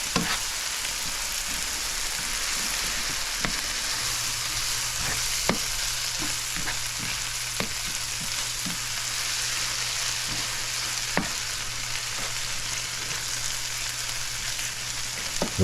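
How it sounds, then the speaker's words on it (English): Dried shrimp frying in a pan for a Guyanese dish with baby bok choy, a steady dense sizzle with scattered pops and crackles running throughout, fairly loud and close, no voices. "And get this shrimp going."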